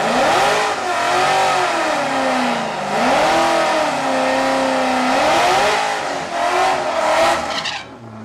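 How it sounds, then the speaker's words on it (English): A 2014 Ford Mustang Shelby does a burnout at a drag strip test-and-tune session, its engine revving hard in rising and falling waves with screeching tyre squeal throughout, loud and close, with no talk. "Good burnout for Derek on that one."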